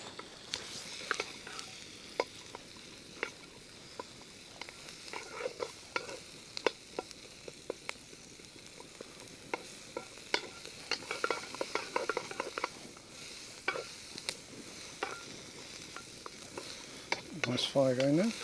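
Chopped onions sizzle and crackle in a wok over a campfire, with scraping stir strokes and sharp utensil clinks scattered throughout, growing busier near the end; no one speaks.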